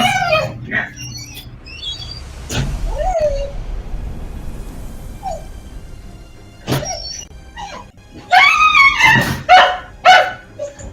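A stray dog barking in the Elder Scrolls Online video game, sharp barks scattered among cat-like meows, loudest in a cluster of rapid calls toward the end.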